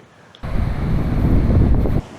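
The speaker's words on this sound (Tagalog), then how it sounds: "Lakas ng hangin." Strong wind roars against the microphone in a loud, steady rush at a campsite in Baler, Aurora, starting abruptly and cutting off near the end.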